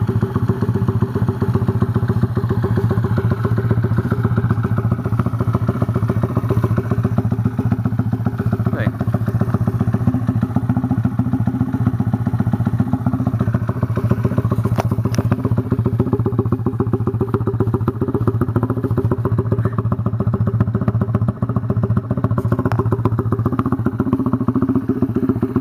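A Honda CT70 cafe racer motorcycle engine runs steadily on its own for the whole stretch, a loud, close, continuous low chugging with rattly mechanical clatter and no break in the sound.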